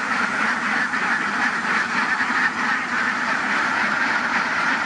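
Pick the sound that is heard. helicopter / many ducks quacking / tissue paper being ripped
many ducks quacking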